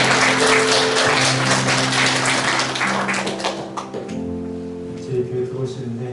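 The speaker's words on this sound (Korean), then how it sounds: "환영의 박수 한번 하도록 하겠습니다" Congregation at a Korean church Sunday service gives welcoming applause for a visiting retired pastor and his wife: dense, steady clapping that fills the room for about four seconds, with a sustained tonal, musical sound underneath, then fades.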